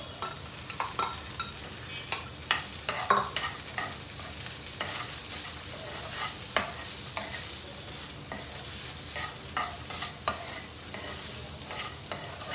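Sabudana (sago) being stirred and sautéed in a pan, a constant soft sizzle with repeated light scraping clicks of the spoon against the pan, close and steady for the whole stretch without any talking.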